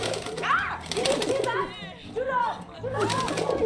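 A pigeon coos repeatedly in the video game 11-11 Memories Retold, its soft, rising-and-falling calls coming close and clear in several bursts while a person speaks over them.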